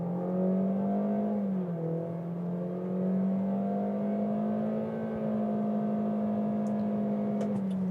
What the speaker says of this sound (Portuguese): acelerando tudo.